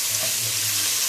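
Ginger garlic paste hitting hot oil in a pan with cumin seeds, a loud, steady, close-up sizzle with no pauses and no voices.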